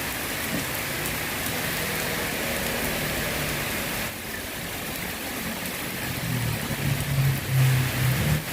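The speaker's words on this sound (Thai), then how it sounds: "ลมก็แรงนะครับ ฝนก็ แรงนะครับ" Heavy afternoon rain pours steadily with strong wind, a dense continuous hiss that dips briefly midway, with a low tonal hum rising near the end.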